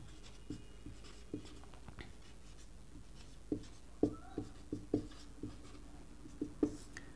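Pen or pencil writing out a class 10 math solution on paper, with soft scratching and a series of light taps at uneven intervals, faint and close, over quiet room hiss.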